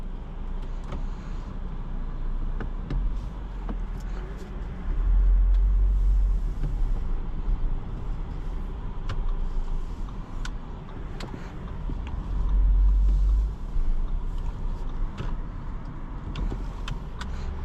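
A 2023 Audi Q8 55 Premium Plus SUV driving on the road, heard from inside the cabin as a steady low engine and road rumble with a few louder swells, faint clicks and no talking.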